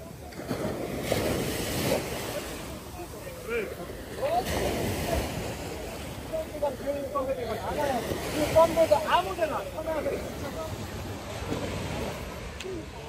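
Ocean surf breaking on a Phuket shore in Thailand, a steady broadband wash of waves with wind noise throughout, while people talk over it.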